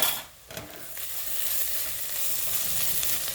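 Carrot halwa roasting in a pan, a steady broadband sizzle and crackle that runs close and even throughout, with a brief dip near the start.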